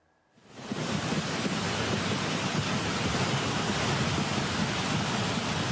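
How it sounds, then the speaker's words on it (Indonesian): A flash flood after heavy rain sends water rushing in a broad, loud, unbroken roar that swells in within the first second and then holds steady to the end, with no speech. "Arus air yang membesar terlihat menghanyutkan potongan kayu dan batu-batu berukuran besar."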